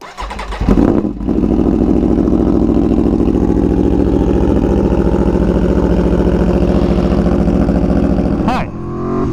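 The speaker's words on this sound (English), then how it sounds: "another 2017 Aprilia Tuono V4 1100 factory cold start with an SC Project CRT" A 2017 Aprilia Tuono V4 1100 Factory with an SC Project CRT slip-on exhaust cold-starts close by, the starter catching into a loud bark, then a steady, rumbling high idle that holds with a brief blip near the end.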